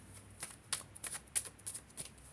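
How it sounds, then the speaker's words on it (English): Tarot cards being shuffled in several quick riffling bursts, crisp papery flutters with short pauses between them, close by and fairly quiet. "All right, let me shuffle"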